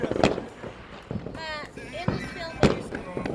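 A small ladybug-shaped firework is lit outdoors and goes off with a few sharp pops and crackling bursts, with excited voices and screams around it.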